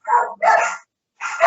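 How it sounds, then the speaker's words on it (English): Dog barking close and loud outdoors near a driveway, three rough barks with a clear pause before the last one. "I just had a crazy dog."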